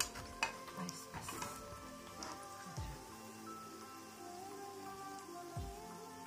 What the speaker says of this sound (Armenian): շատ արագ է տապակվում